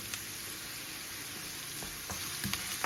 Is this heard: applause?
no